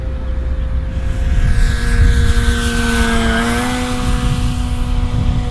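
A radio-controlled Sig Kwik Bilt Cessna 150 model airplane on its maiden flight, its engine droning steadily with a sustained whining tone that dips slightly in pitch midway, heard outdoors with no talk.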